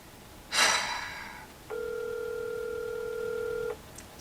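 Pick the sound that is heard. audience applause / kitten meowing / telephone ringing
telephone ringing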